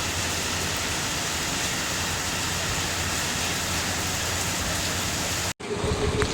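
Heavy monsoon rain pours down in Vasai Virar, a dense steady roar of downpour that holds loud and unbroken before cutting off abruptly near the end, then resuming.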